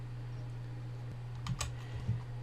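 A few quick keystrokes and a tap of the enter key on a computer keyboard, faint and close, over a steady electrical hum with no talking.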